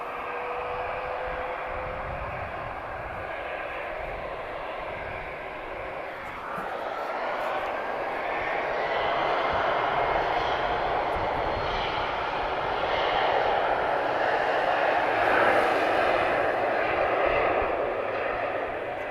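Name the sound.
TAP Express Embraer E190 airliner engines at Lisbon Airport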